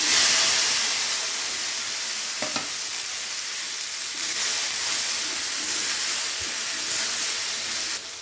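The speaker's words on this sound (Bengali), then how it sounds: "ভেন্ডিগুলো ঠিক এরকমভাবে হালকা করে ভেজে নিতে হবে" Okra sizzles and hisses steadily in hot oil seasoned with salt and turmeric, a dense bright frying noise with a brief stir clatter partway through and no talking.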